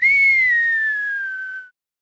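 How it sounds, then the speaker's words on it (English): A single descending whistle effect from a falling scene in RoboCop 2 (1990), one clean tone sliding slowly downward for about a second and a half, loud and alone before cutting off. "Did you notice the whistle sound?"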